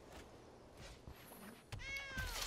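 A Sacred Cat card in the Magic Arena card game gives a clear, bright cat meow sound effect near the end, preceded by soft game interface sounds.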